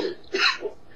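A single harsh cough bursts out close by, brief and throaty, with a softer rasp trailing off after it.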